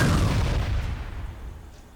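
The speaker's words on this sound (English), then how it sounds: "Is it thunder again? Yes." Thunder, a single deep rumbling boom that starts loud and slowly fades over two seconds, alone with no talk.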